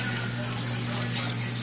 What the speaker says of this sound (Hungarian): És jó sűrű, úgyhogy most ehhez lehet önteni vizet.